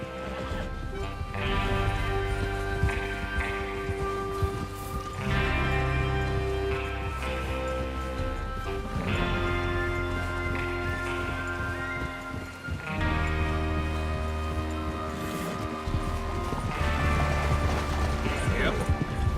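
Horses gallop with rhythmic hoofbeats and occasional whinnies in the video game Red Dead Redemption 2, set against a steady musical backdrop with voices speaking at times.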